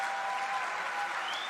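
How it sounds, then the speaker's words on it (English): A large crowd at an outdoor Save Soil rally in Jordan breaks into loud, continuous applause, a dense, even roar of clapping with no speech heard. "A big round of applause"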